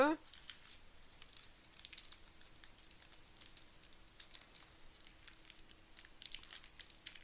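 A Sombrelande trading card booster pack is pulled open with thin foil crinkling and tearing, then steady close crackles and rustles of the wrapper continue at a low level.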